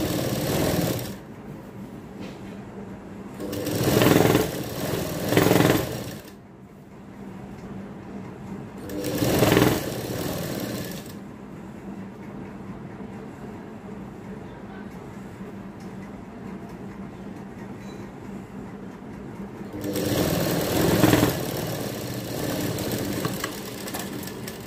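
A sewing machine stitching a double-folded fabric hem on a baby frock, heard as rapid mechanical chattering in several bursts of a few seconds each, with quieter pauses between runs.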